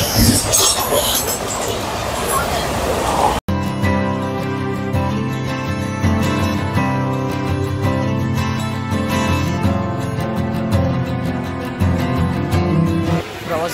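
A Janshatabdi passenger train runs on after leaving Thane station, a steady loud rumble and rattle of carriages on the rails heard from inside, with a sharp break early on and faint voices mixed in.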